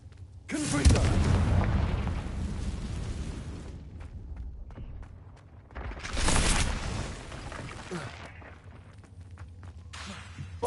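Confringo fire spell explosions in the Hogwarts Legacy video game: two loud, deep booming blasts a few seconds apart, each rumbling and decaying into debris crackle, with scattered footsteps between.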